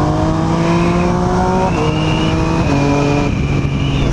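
A close, loud engine runs hard with steady rising tones that shift up through the gears, continuous and without any voices.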